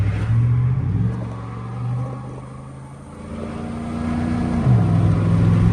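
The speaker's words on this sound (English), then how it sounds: "The tires do make a little bit of noise. These are mud tires." Pickup truck on mud-terrain tires cruising down a road, a steady low engine drone and tire hum with gear shifts and rising revs, continuous and fairly close inside the cab.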